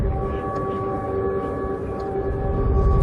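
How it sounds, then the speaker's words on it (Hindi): A steady, sustained air raid siren in Odisha, India, drones with several held tones over a low rumbling background, unbroken for the whole stretch. "एयर रेड सायरन की आवाजें"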